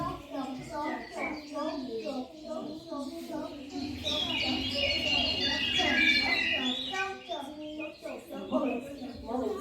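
A group of preschool children at a spring celebration chirp and tweet in overlapping high voices, imitating birdsong, steady and lively throughout.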